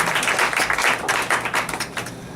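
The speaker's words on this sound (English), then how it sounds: "So another round of applause," An audience at a university MFA poetry showcase applauds, giving a dense, continuous patter of many hands clapping at steady loudness throughout.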